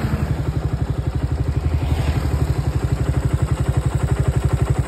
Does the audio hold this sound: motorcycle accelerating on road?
yes